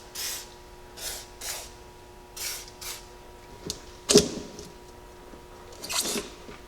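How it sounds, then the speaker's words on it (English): WD-40 sprayed from a can onto a coil spring seat during a Jeep Cherokee XJ suspension lift, heard as a series of short, soft hissing puffs spaced about a second apart in a quiet garage, with faint handling noises. "I'm just going to take a little bit of WD-40 and put it right here so that way it slides on a little bit easier."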